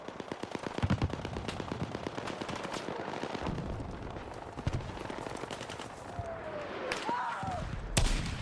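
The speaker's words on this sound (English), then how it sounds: "Oh, I'm being sniped." Gunfire in Battlefield 6: a steady rattle of rapid shots with several louder cracks and distant booms layered through the battle din, continuing throughout.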